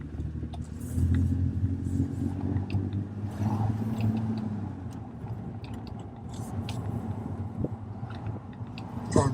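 A car driving along a suburban road route, its steady low engine rumble and road noise continuous and fairly close throughout, with no talk over it.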